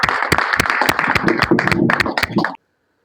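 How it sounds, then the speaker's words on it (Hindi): An audience claps to welcome a manager at a free livestock infertility treatment camp in Wazirganj, Gaya, a burst of loud, close, uneven hand claps lasting about two and a half seconds before stopping abruptly into silence. "तालियों से स्वागत कीजिए मेरे मैनेजर सर का।"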